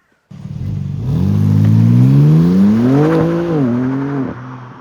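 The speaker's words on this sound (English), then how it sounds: "It's obviously a straight six BMW's signature dish, and it does sound really nice." A BMW M3 Touring's straight-six engine revs up, its pitch climbing smoothly and loudly, then dipping briefly and settling back toward idle, heard up close with no talking.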